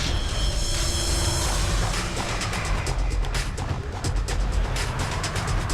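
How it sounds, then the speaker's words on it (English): A train crashing in a video game, a dense, loud mechanical rumble and clatter with rapid metallic impacts and scraping that carries on without pause throughout, no voices heard over it. "Another train has crashed."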